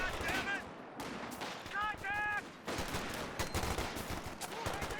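Gunfire in the video game Company of Heroes 2, a sniper and infantry shots cracking in quick bursts over a dense battle din, with brief tonal game effects and a voice talking underneath.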